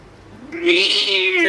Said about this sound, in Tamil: நம்ம வாங்கிட்டு வந்த பூனை கூட நம்ம வளர்க்குற பூனையை வந்து பழக விடலாம்னு பார்த்தோம்